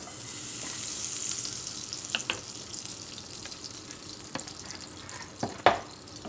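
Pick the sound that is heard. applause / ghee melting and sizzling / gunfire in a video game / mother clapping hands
ghee melting and sizzling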